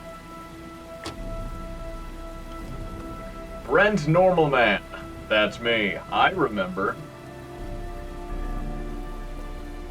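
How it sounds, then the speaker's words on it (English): Heavy rain from the video game Heavy Rain hisses as a steady, even wash throughout, with someone talking over it in the middle. "The rain is pretty heavy."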